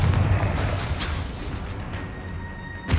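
Booming spell explosions from Hogwarts Legacy roll through a magical duel, a dense loud rumble fading before a sharp burst near the end.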